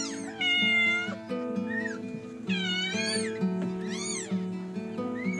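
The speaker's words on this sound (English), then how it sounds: "I've never seen a cat give birth before, so it's absolutely incredible." Mother cat giving birth to kittens, meowing and yowling loudly in several drawn-out, rising and falling cries, close by with little else around.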